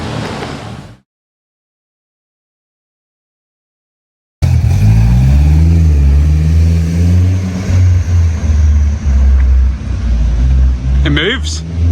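After a brief gap, an automatic car with a torque converter drives off, its engine droning loud and near with smoothly rising and falling pitch as it pulls away, while people talk over it.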